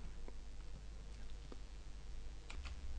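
Mouse clicks and keyboard keystrokes on a computer while editing a Moodle label, a few faint scattered clicks and taps over steady low background hum.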